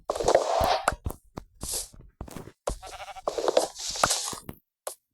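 Minecraft sheep bleat repeatedly in a survival game, several short nasal bleats in quick succession with brief gaps between them, clear and fairly loud, alongside soft game clicks and plops.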